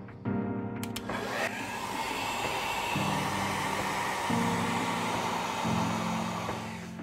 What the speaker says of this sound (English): warm up the surface of the display with a regular hairdryer